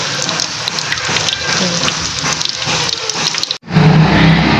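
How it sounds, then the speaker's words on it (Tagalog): Loud, continuous crackling sizzle of food frying in oil, close up, with a brief cut partway before the sizzling resumes. "meron tayong piniprito dito"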